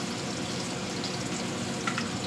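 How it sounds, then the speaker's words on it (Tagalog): Liver sautéing with ginger in a hot pan gives a steady, dense sizzle and crackle close by, with faint stirring scrapes and no talk. "Igisa lang natin yan."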